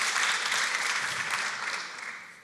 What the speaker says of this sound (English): Yay! Round of applause.